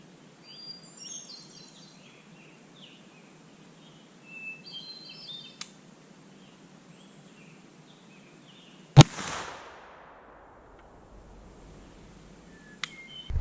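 A single sharp gunshot from a Thompson Center Hawken .45 muzzleloader rifle fired outdoors, a loud crack with a trailing rumble, amid faint bird calls and quiet surroundings.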